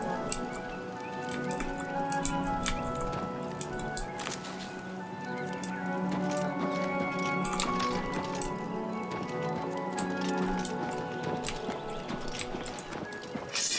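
In the video game Oblivion Remastered, a horse's hooves clip-clop in a steady, irregular rhythm at close range, with some faint background ambience and no speech.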